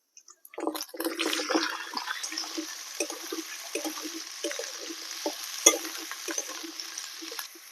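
Small cauliflower pieces are tipped into a pan of fried ginger and garlic, giving a steady close sizzle with clatter and stirring scrapes that continue throughout.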